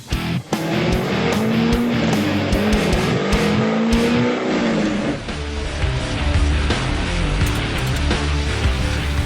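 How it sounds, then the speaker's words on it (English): Corvette Z06 with a full exhaust system, cold air intake and street tune on a baseline dyno run, a loud sustained engine roar rising in pitch through the revs, then dropping off and idling roughly near the end. "A baseline dyno runs in our Z06, which is equipped with a full exhaust system, a cold air intake and a street tune"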